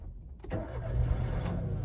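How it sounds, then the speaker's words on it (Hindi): A manual car's engine cranks and catches with the clutch pressed, settling into a low steady idle after a brief quiet moment, close by with no talk. "अभी क्लच दबा के स्टार्ट करिए."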